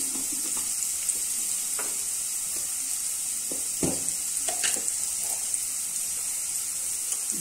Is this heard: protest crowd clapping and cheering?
no